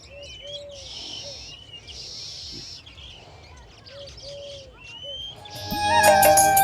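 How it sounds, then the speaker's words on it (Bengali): Birds chirp and call repeatedly in the open air at Vrindavan, a gentle breeze rustling underneath, with a brighter, busier burst of song near the end. "এখানে কত সুন্দর মৃদু মৃদু হাওয়া বইছে এবং পাখির কলরব শুনতে পাওয়া যাচ্ছে"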